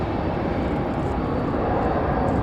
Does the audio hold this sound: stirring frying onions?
no